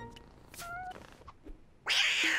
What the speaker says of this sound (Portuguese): Mas ela é uma gata.